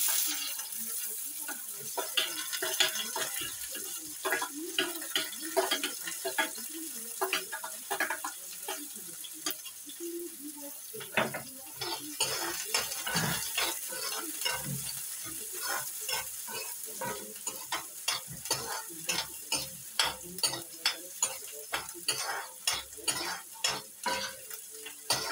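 Chopped onions sizzle in a pan with browned garlic for a tinde curry, a steady frying hiss broken by repeated scraping and clinking stirs that grow more rhythmic toward the end.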